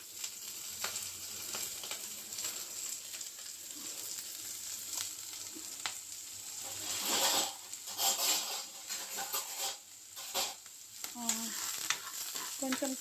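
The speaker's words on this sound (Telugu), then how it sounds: "ముందుగా మనం ఆయిల్ వేడైన తర్వాత ఫస్ట్ ఉల్లిపాయలు వేసుకుందామండి" Onions and green chillies fry in hot oil for a chicken fry, giving a steady sizzle with repeated scraping stirs that grow louder midway, no voices.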